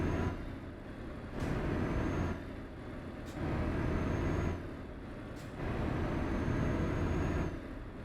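A truck in Euro Truck Simulator 2 rolls onto a bridge, its engine rumble swelling and easing in slow waves with short hissing bursts in between, loud and close.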